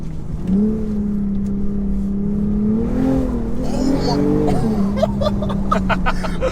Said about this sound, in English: Mate, listen to the intake as well. It's nuts.